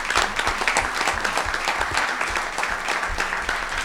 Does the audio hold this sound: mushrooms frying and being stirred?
no